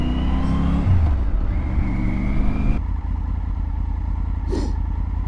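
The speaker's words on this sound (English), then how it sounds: "See a couple of motor riders coming." A couple of motorcycles passing on a road, engines droning loudly under steady wind rush from a moving rider's perspective, with a rising whine as one goes by.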